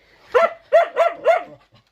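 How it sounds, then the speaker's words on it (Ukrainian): A dog barks four times in a quick, loud, close run, each bark sharp and tonal, with no talking over it. "не гавкай"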